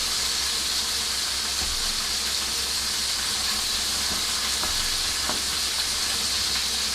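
Stuffed cheeseburger patties, pressed flat in a hot pan, sizzle with a steady, loud, close hiss that runs unbroken throughout.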